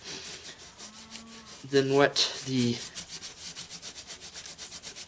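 A sanding pad on a drill rubs and scrubs across the engine head of a Farmall Super M tractor in rhythmic strokes, fairly quiet, while someone speaks briefly over the sanding.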